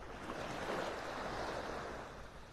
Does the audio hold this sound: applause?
no